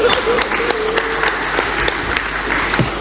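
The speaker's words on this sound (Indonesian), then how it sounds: "Tepuk tangan dulu." Audience applause at a university event in Indonesia, a dense burst of many hands clapping, fairly loud and close, with a few sharper claps standing out over about three seconds.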